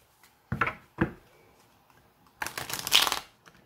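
Tarot cards being shuffled by hand at a table: two short riffle bursts, then a longer, louder stretch of fluttering card noise, close and clear with no talking.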